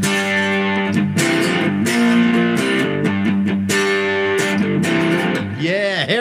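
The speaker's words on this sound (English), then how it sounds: "Let's put a little distortion on, see what it can do." A loud Rebel Weapons Solidbody three-string electric guitar with heavy distortion plays sustained chords and bent notes continuously, ending in a wavering, warbling tone.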